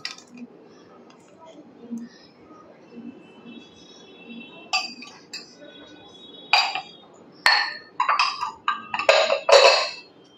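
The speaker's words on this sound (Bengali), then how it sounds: "টক দইটা দিয়ে খুব ভালো করে নেড়ে দিতে হবে" A utensil stirs sour yogurt into thickened, reduced milk in a pan for danadar milk cake, giving scattered metallic clinks and scrapes that grow busier and louder toward the end.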